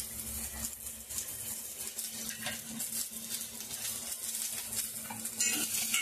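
Garlic, ginger and green chili frying in oil for a Manchurian gravy, a soft steady sizzle with occasional scraping and stirring of a pan, close and fairly quiet.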